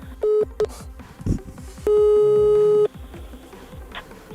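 A telephone line gives steady tone bursts after a call is hung up, with a long held tone standing out over a rhythmic background and a faint voice.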